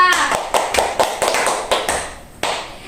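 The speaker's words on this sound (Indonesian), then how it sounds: "Tepuk tangan dulu untuk kotak 1, 2." A seventh-grade math class claps together for classmates, a short run of loud, fairly rhythmic group claps in a classroom, close by and slowing toward the end.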